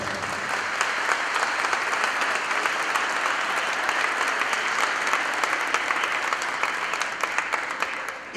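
An audience applauds warmly at a real estate and cryptocurrency contracts event, producing steady, dense clapping that holds at an even level for the whole stretch, with no speech over it.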